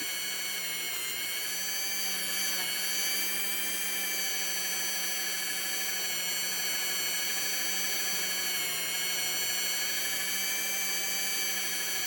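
A small rotary power tool whining at a steady high pitch as it sands and polishes a polymer clay pendant, loud, close and unbroken throughout, with no talking.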